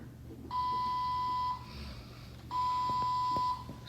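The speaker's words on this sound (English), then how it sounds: "Something's beeping. It's beeping." Two long electronic beeps, each about a second, sounding steadily and evenly apart from a hospital device, clear over a low background hum with faint clicks.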